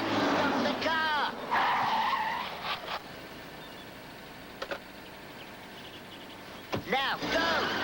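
A car's tyres squeal in sharp skids, one near the start and another near the end, with engine noise and shouted voices in between.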